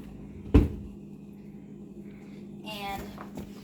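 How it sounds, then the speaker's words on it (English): An oven door is pulled open for a pan of brownie batter in a home kitchen, a single sharp clunk near the start, then quiet with a steady hum and a brief voice toward the end. "And so we're gonna open the oven."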